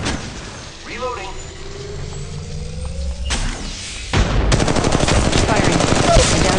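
Rapid automatic gunfire bursts in the video game Apex Legends Mobile, dense and loud near the end, following mechanical whirs and clicks, with a voice speaking in between.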